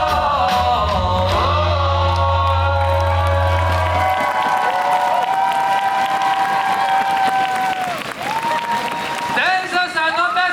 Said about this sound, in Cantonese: 唔好停嘅掌聲啊